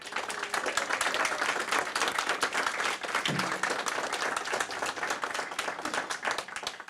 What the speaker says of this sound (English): So you deserve a huge hand of applause today for all the work you have done.